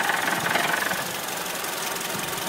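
A Honda RG1 with an abnormal transmission noise idles in neutral, giving a steady, close mechanical drone with a faint knocking texture running through it throughout.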